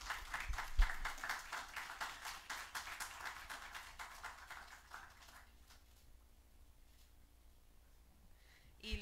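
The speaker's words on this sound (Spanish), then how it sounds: "un aplauso por favor para..." Audience applause at a Spanish-language talk on funding science outreach projects: dense clapping for about five seconds, then fading into quiet room tone with a brief burst near the end.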